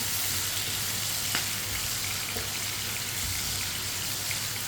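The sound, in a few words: tomatoes frying in a pan, stirred with a spoon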